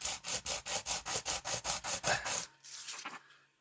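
A scale model being sanded by hand: roughly a dozen quick, even rasping strokes close up, then quieter, softer rubbing toward the end.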